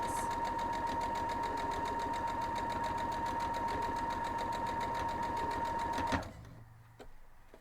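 A sewing machine stitches the corner of a cloth napkin with a steady, fast mechanical whir and a strong constant hum, running loud and close for about six seconds before stopping abruptly, leaving quiet room tone.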